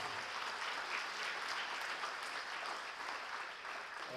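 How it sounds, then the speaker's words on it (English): Faint, distant applause from a banquet audience at a high school athletic awards night, an even wash of clapping that carries on steadily without pause. "Round of applause."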